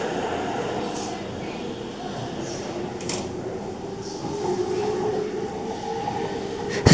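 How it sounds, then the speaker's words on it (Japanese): A JR East E231 series commuter train rumbles steadily nearby as it pulls away toward Nishi-Funabashi on the Chūō-Sōbu local line, a continuous rolling drone with faint clicks and a voice talking over it. "E231K0 番台がね、西船橋へと向けて発車していきました。"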